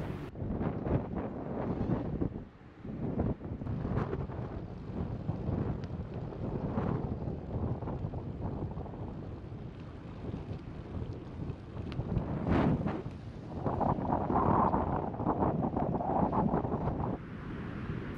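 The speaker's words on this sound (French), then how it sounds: "le vent souffle déjà assez fort au moment de partir" Strong wind roars and buffets the microphone of a cyclist riding in the Netherlands on a bike trip from Amsterdam to Paris, a continuous gusting rush with surges and brief lulls and no voices.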